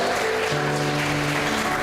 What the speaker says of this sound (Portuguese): Você pode aplaudir Jesus aí?